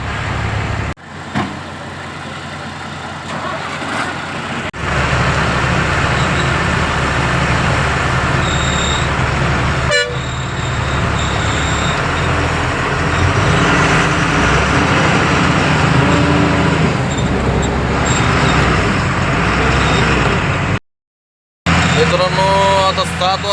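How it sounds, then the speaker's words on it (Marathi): Heavy traffic jam on a truck journey from Khadki, Pune, with constant engine rumble and roadway noise, and several loud truck horn blasts sounding close by over the idling din. "बघा हे ट्रॉफिक फुल जाम आहे."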